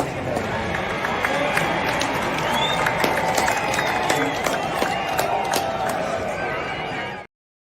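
A large outdoor crowd of football supporters behind the goalposts roars and cheers continuously, a dense wash of many voices with scattered shouts and whistles rising above it.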